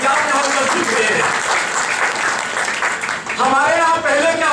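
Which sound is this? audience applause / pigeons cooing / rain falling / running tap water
audience applause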